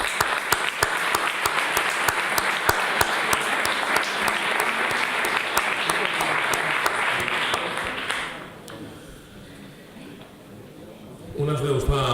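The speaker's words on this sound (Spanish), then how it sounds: "otro aplauso para agradecerle su conferencia" A lecture audience applauds in a full, steady burst of clapping for about eight seconds, then it fades to quiet room tone before a voice begins speaking at the end.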